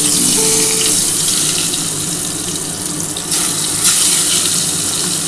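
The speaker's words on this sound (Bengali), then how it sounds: "এবার আমি বেগুনগুলো একটা একটা করে ভেজে নেব।" Eggplant pieces frying one by one in hot oil make a loud, close, unbroken sizzle that stays steady throughout.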